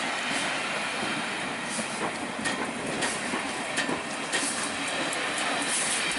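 Steady, loud rolling rumble of a train passing close by at a heritage railway roundhouse, where the A3 steam locomotive number 60103 Flying Scotsman brings up the rear, continuous for the whole stretch with faint clatter on top.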